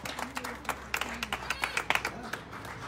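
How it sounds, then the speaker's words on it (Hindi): Scattered hand claps and light applause from a small group gathered for the delivery of a brand-new Ford Endeavour 4x4, uneven bursts over a low hum with some voices mixed in. "जोरदार ताली होना चाहिए भाई"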